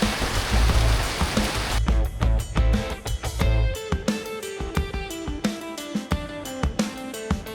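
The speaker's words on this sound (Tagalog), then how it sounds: "Ayan po, lakas na po ng ulan." Heavy typhoon rain pours outside a house in Malasiqui, Pangasinan, a dense steady roar of water hitting surfaces with gusting wind, loud and continuous, with sharp drips and splashes standing out in the latter part.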